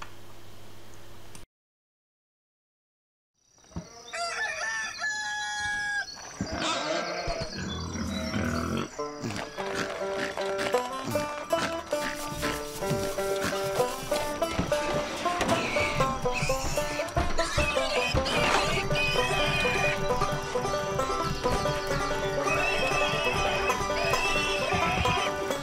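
Horses whinny and clop on a farm in the Lego City Undercover video game, mixed in with game music and other steady layered sounds that run nearly continuously after a short silence at the start.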